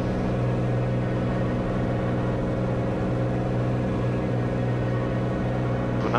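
A small aircraft engine roars steadily through a takeoff roll, a constant loud drone with a fixed propeller pitch heard from inside the cabin, no talk over it.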